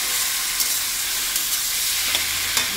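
Fish goes into hot oil in a pan of spiced, sautéed masala and fries with a steady, close, bright sizzle and hiss, broken by faint clinks of stirring.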